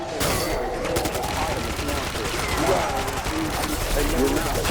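Gunfire in the Call of Duty video game, a dense continuous fusillade of rapid shots with overlapping bursts, loud throughout, with a voice talking over it.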